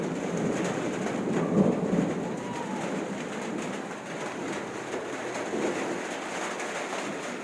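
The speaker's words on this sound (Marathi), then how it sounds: "आता पाऊस पण पडायला लागला" Steady rain hiss fills the background while pigeons coo softly nearby, with a faint low rumble underneath.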